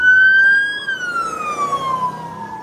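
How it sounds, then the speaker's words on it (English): Emergency vehicle sirens pass along Fremont Street, a loud, steady wail whose pitch drops sharply as the vehicle goes by, with low traffic rumble underneath and no talking. "I hear more sirens."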